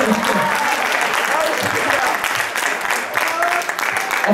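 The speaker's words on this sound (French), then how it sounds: "Et on peut applaudir bien fort" A hall audience at a charity telethon magic show applauds loudly and continuously, a dense, rolling clatter of many hands with some murmured voices mixed in beneath it.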